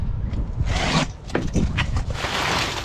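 A blade slices open a cardboard clutch kit box, giving several close scraping, ripping strokes of cutting through tape and cardboard.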